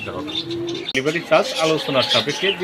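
Golden-colored Australian doves coo softly and repeatedly nearby at a bird seller, their low rolling calls mixed with chirps and some background voices.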